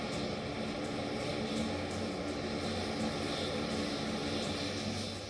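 An airplane arriving at Delhi airport from Italy, a steady droning engine roar filling the whole stretch, even and continuous with no voices.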